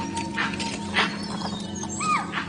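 Animal alarm calls in the misty Kabini forest in India, a few short sharp cries and a rising squeal standing out over a steady low background hum.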